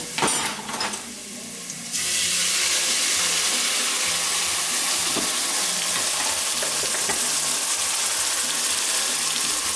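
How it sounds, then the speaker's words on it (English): Half a teaspoon of red pepper sautés in a pan for Macedonian zelka manja cabbage stew, giving a steady, close, hissing sizzle that swells after a brief quieter opening and then runs on continuously with no talking. "We're going to put half a teaspoon of red pepper and saute that in"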